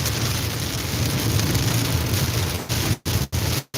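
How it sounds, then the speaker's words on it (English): Heavy rain pours down outdoors, a loud, dense roar that holds steady and then cuts out in a few brief gaps near the end, with no talking. "it's going to get really loud with all the rain"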